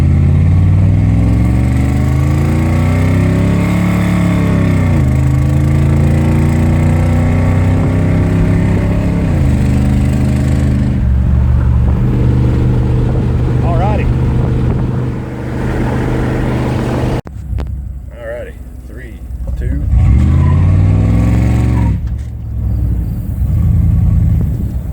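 A small-block Chevrolet V8 car with a throttle-body-injection intake roars as it accelerates hard from 0 to 60, pitch rising then dropping through several gear changes; a second burst of revving follows after a pause.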